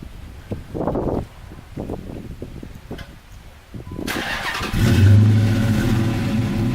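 After quiet handling noises and footsteps nearby, a Dodge Challenger R/T with a K&N intake and MagnaFlow exhaust cranks and fires up, settling into a loud, deep, rumbling idle close by.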